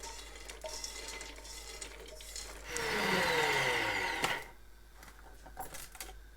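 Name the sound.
grinding roasted fox nuts (phool makhana) in a grinder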